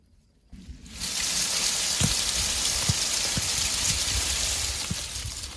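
Leaves rustle steadily as an orange tree is shaken, with several dull thuds of oranges dropping to the ground at uneven intervals.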